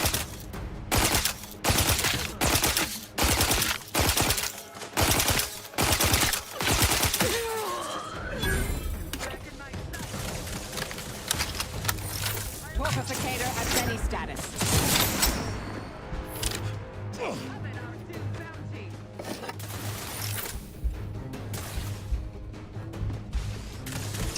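Gunfire rattles in The Outer Worlds 2, opening with a string of loud, evenly spaced shots and then breaking into denser, messier bursts with crashes and shattering over a low rumble.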